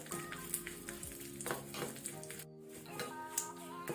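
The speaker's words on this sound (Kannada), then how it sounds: "ಸೊ ಇದನ್ನು ನಾವೀಗ ಲೋ ಫ್ಲೇಮಲ್ಲಿ ಸ್ವಲ್ಪ ಕಲರ್ ಚೇಂಜ್ ಆದ ತನಕ ಫ್ರೈ ಮಾಡ್ಕೊಳ್ಳೋಣ." Urad dal frying on a low flame for coconut chutney, a soft steady sizzle with a few utensil scrapes and clinks, close by and alone without talk.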